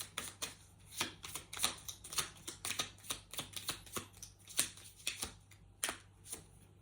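Playing cards being shuffled by hand, close and quiet, a rapid irregular series of papery snaps and riffles in short bursts with brief pauses between.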